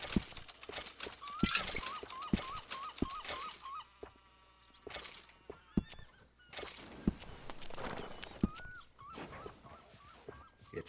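Horse hooves clip-clop faintly and irregularly in Red Dead Redemption 2, mixed with chirping birds and other quiet game ambience.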